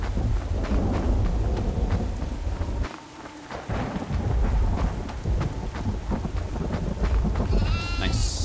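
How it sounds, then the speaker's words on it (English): Goat bleating on a farm in the horror game Devour, a few wavering high calls near the end over a loud bed of thunder, rain and storm rumble. "There has to be a goat out here."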